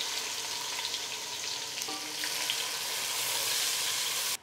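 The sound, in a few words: onions frying in spiced oil for pulao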